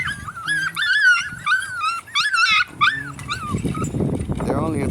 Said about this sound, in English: There's all my puppies.